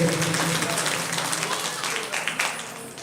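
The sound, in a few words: audience applause welcoming guests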